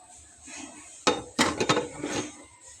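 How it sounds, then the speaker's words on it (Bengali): A metal lid clanks onto a cooking pot of vegetable filling, followed by a short cluster of clattering knocks as the pot is set on a stove in a home kitchen. A quiet background hum runs throughout. "এখন এটাকে আমি ঢাকনা দিয়ে ঢেকে"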